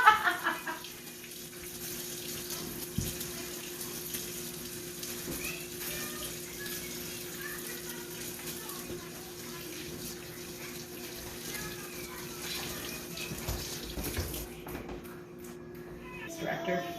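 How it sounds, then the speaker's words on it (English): Tap running steadily as hands are washed at a kitchen sink before baking zucchini bread, a continuous moderate water stream under a person talking. "First thing we got to do, wash our hands."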